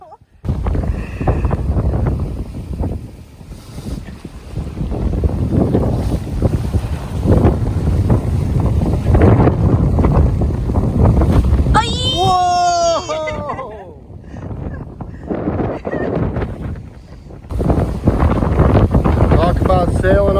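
A sailboat crossing the Indian Ocean rushes through wind and waves, with heavy, continuous buffeting wind noise and a brief voice rising partway through.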